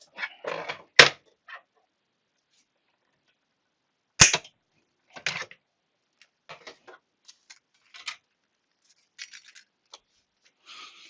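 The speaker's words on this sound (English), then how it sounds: "And we just run that through the Big Shot." A Big Shot die-cutting machine cranking a paper circle through its plates, heard as sparse clicks and ratchety knocks with two sharp snaps, close, alone, separated by silent gaps.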